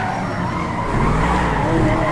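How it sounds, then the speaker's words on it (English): A convertible roadster in GTA 5 with a rough, buzzing engine note that recalls an old F1 car, tires squealing in a sustained skid that grows louder midway, close and continuous. "So it sounds like an old F1 car."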